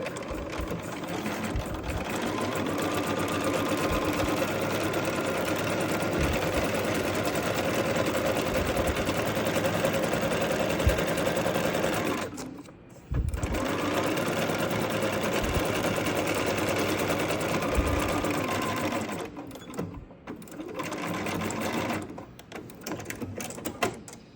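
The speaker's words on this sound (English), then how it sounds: "sew all the way across on that seam line, making sure to back tack" A sewing machine stitches a quilt block seam, back-tacking at the ends. It runs as a loud, steady drone, broken by two brief pauses partway through, with no talking.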